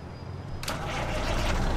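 A heavy truck engine in American Truck Simulator cranks and catches at once, then settles into a steady, loud low rumble that holds to the end, with no talk over it.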